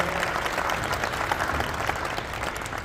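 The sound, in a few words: audience applause at a press conference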